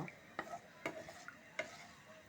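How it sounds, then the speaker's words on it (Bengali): A teaspoon of black cumin (kalo jeera) is stirred in hot oil for a garlic pickle, a faint oil sizzle beneath four or five distinct clicks and scrapes of a spoon against the pan, quiet and close. "দিয়ে দিলাম 1 চা চামচ কালো জিরা, দিয়ে একটু নেড়ে চেড়ে নেব"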